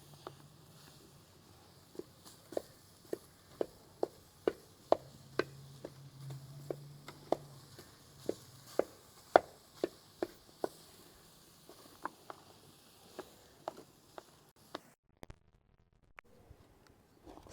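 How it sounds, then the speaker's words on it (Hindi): Two large boiled potatoes are mashed with spices in a pan, giving a long run of sharp, evenly spaced taps about every half second, close and dry, before the tapping stops near the end. "2 बड़े साइज़ के आलू थे जिनको मैंने बॉयल किया हुआ है। ये डाल के हम इनको मैश भी करते जाएंगे"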